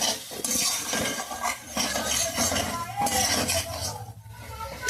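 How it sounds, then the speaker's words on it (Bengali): Chili powder, turmeric, ginger and salt fried in oil in a pan for a Bengali fish curry, stirred continuously with a spatula that scrapes and clinks against the metal over a steady sizzle. "এটা দিয়ে ভালো করে একটু কষাবো, একটু তেল ছেড়ে আসবে"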